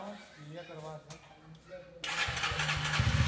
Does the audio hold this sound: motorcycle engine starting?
yes